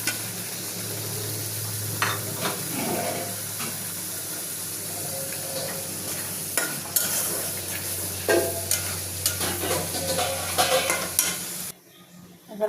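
Tomatoes and spices are fried and stirred in a pan with a continuous close sizzle under repeated scraping strokes and clinks, before the sound drops away near the end.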